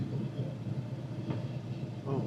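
A 1967 Ford Mustang GT's engine rumbles as a steady low drone from inside the moving car, with a brief swell near the end.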